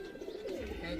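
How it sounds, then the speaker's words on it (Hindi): Soft cooing of a Madrasi pigeon, a brief low warble, faint and close, with light background noise. "जी सचिन, तो कितने बजे तक उड़े थे कबूतर?"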